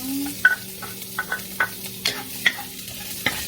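Garlic sautéing in oil in a pan, soft sizzling under a series of quick scraping stirs, about nine or ten light spatula knocks spaced irregularly, close by.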